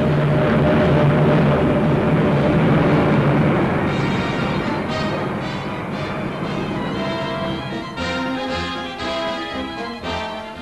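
A Heinkel 114 twin-float biplane's engine drones loudly in old archive film, with a rough, steady roar that softens slightly toward the end under crackly noise.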